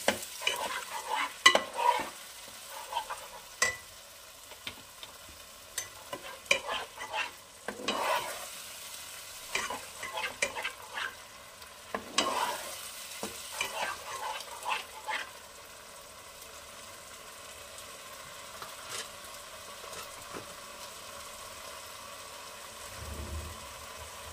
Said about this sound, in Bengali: দিয়ে দেব টমেটো বাটাটা, দিয়ে আবার এটাকে কষিয়ে নেব ভালো করে।